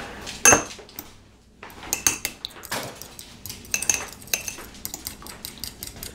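Egg wash for a Nutella puff pastry dessert is whisked in a bowl with a fork, giving quick clinking taps against the dish, close and fairly loud, with a louder clatter near the start.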